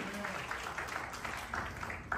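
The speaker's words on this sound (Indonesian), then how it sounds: "beri tepuk tangan yang meriah bagi Allah kita" Congregation clapping in a church service, a short, fairly faint wash of applause with a few sharper claps over a few seconds, with a voice over it.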